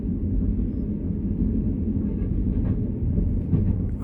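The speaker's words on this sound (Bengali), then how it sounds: "আমাদের ট্রেন ছুটছে" An overnight passenger train running through Thailand toward Surat Thani gives a steady, close interior rumble with faint rhythmic rail clatter, continuous and without talk.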